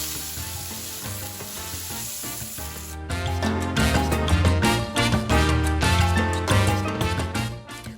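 Cuban fritas, seasoned meat patties, sizzle loudly on a hot cooking surface while two spatulas scrape and flip them, the sizzling growing denser and more vigorous partway through.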